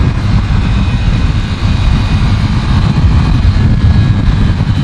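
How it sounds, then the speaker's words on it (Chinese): Ducati Scrambler Desert Sled with an 803cc engine rumbling steadily while riding a mountain road, a loud continuous low drone with wind rush and no let-up. "我现在是拿真的 Scrambler 然后来跑山路"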